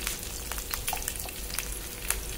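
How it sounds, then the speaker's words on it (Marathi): Mustard seeds, curry leaves and green chillies fry in ghee with a soft, steady sizzle and scattered light crackles and pops, fairly quiet and close, with no talking. "छान असतं तुपामध्ये व्यवस्थित परतून घ्यायचं आहे"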